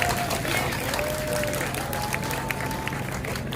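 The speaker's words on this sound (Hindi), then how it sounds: "हमारे बहुत ज़्यादा तालियां बजाएं" Dense, steady applause from the audience at an Urdu mushaira poetry gathering fills the whole stretch, loud and continuous, with whistles and crowd noise mixed in.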